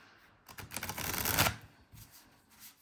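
A deck of cards being riffled and shuffled for a reading: a short burst of close flapping, building to a dense rush then stopping, with a few lighter card taps afterward and no talk.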